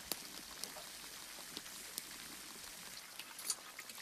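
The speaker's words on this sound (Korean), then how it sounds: "오케이, 그럼 만두 튀긴다." Quiet, steady crackling and sizzling of dumplings deep frying in oil at about 165°C, with scattered sharp pops rising above the hiss.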